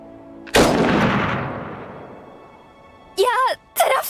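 A single sharp gunshot in the video game Iron Harvest cracks loudly and booms away into a long decaying tail, followed a few seconds later by brief voices.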